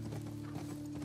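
Horse hooves clip-clop in The Last of Us Part II, a short run of soft, regular steps over a steady low hum.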